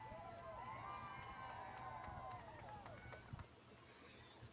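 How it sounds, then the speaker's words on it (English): A crowd cheering and shouting at a SpaceX Starship launch, many voices rising in whoops and yells over a steady rumbling backdrop, fairly faint and distant, fading near the end. "Now, what are they cheering for?"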